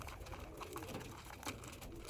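Lalsira pigeons cooing softly in a loft, with low, repeated murmuring coos over a steady faint background hiss and no speech.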